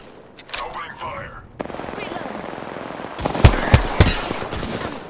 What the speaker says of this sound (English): Enemy over there! Firing! Opening fire!